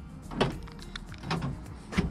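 A 2002 Honda S2000's trunk latch releases by remote key fob, giving a few short, faint mechanical clunks and whirs at close range, with no talk.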